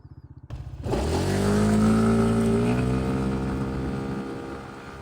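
A Kymco KRV Roma GT scooter accelerates from a low idle: the engine note rises sharply and climbs steadily in pitch as it speeds up, loud and close, with no talking.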